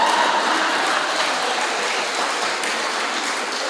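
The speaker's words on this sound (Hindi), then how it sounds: "पर यहाँ तो तालियां भी बजा रहे हैं," Steady audience applause at a Hindi comedy poetry gathering (kavi sammelan), a dense wash of clapping hands that holds throughout with no speech over it.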